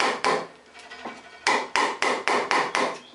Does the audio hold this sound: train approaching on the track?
no